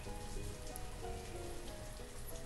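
Steady rain in the village-building game Banished, a constant dense hiss of drops on surfaces filling the whole stretch, with faint tonal game music underneath.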